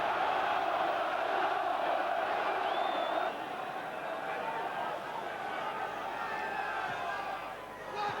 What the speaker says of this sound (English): Crowd really getting behind them now.